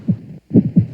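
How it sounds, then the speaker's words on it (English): A heartbeat sound effect in a 1960 thriller drama, with deep, muffled low thumps in a lub-dub pattern, a short gap, then more throbbing beats, loud and close with no talking. "That sound you hear is a heartbeat"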